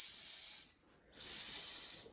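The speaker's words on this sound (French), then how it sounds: "un sifflet pour appeler les secours." Two shrill blasts from the emergency whistle built into an O'River survival knife, each about three-quarters of a second long with a short silent gap between them, loud and close with no talking.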